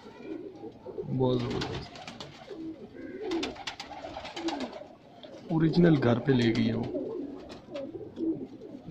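Pigeons cooing in low, rounded bursts close by, with people talking over and between the calls.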